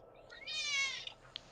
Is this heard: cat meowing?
yes